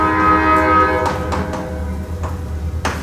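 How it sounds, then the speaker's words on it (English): A train horn sounds outside, a steady sustained blast that stops about a third of the way through, followed by rumbling rail noise and a few distant knocks. "There's a choo-choo train outside, which has stopped honking temporarily."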